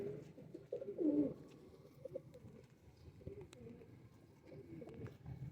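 Pigeons coo softly and intermittently while being picked up and handled for sale, with low throaty calls and faint rustling in the background.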